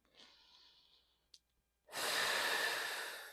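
Breathing during a breathing exercise: a soft, drawn-out inhale, a brief pause, then a louder, airy exhale close to the mic.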